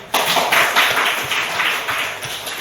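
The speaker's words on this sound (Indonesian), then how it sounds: "tepuk tangan dulu" A classroom of students claps together after a correct sociology answer, a close, fairly loud burst of rapid, overlapping hand claps lasting a couple of seconds.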